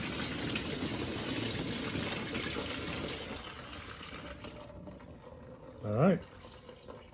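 Antifreeze drains out of a 1998 Toyota 4Runner radiator, a steady splashing stream for about three seconds before it drops to a quieter trickle, with a voice briefly speaking near the end.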